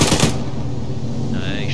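Heavy machine gun fire in a military combat video game, a loud close burst of rapid shots cracking at the start, then a sustained rumbling decay with no voices.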